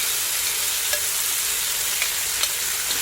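Food sizzling in an iron frying pan, a dense steady hiss with occasional small pops and clicks, close by and continuous throughout.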